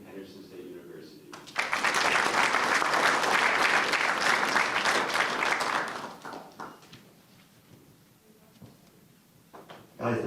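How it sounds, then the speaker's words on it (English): A high school audience applauds its fall signing-day class, with talk before the clapping swells suddenly into a loud, dense ovation that holds for about four seconds, then fades into quieter talk and scattered sounds. "One more big round of applause for your 2023 fall signing class at Destrehan High School."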